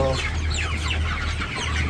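Many chickens on a village poultry farm cluck together, a dense, busy chatter of overlapping calls over a low constant hum.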